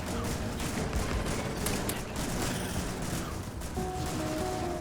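Gun turrets in the Factorio video game fire continuously at attacking creatures, a dense, loud rattle of rapid gunfire throughout.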